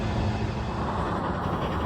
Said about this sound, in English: that's the train they have running up the mountain to go rescue the train that can't move